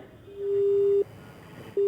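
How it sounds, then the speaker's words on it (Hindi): Phone line tone after a call is hung up: a steady pure beep that holds for about half a second, cuts off, then returns near the end over faint background hiss. "एसपी साहब ने फोन काट दिया।"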